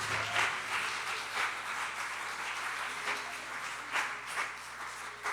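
A church congregation applauds during a sermon, moderately loud rhythmic clapping with regular pulses and a low steady hum beneath it, continuing throughout.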